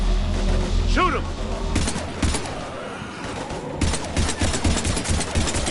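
Rapid bursts of automatic gunfire crackle in a Mass Effect 3 combat scene, loud and dense, mixed with thumps and shouted voices over a rumbling background.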